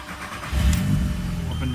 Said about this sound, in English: start the car and pump the brakes a few times